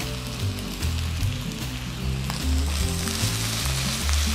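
Kimchi fried rice sizzles steadily in a pan while being stirred, a loud continuous frying hiss with rhythmic scraping pulses throughout and no talking.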